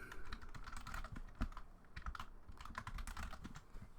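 Quick, light key taps rattle steadily on a computer keyboard as a password is typed, close and fairly quiet with no talking.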